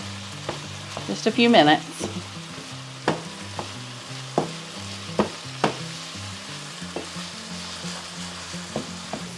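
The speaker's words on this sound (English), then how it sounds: "It doesn't take it very long for this ground beef to brown." Ground beef browns in a pan with taco seasoning, giving a steady close sizzle under repeated scraping and tapping of a utensil stirring the meat; a voice speaks briefly near the start.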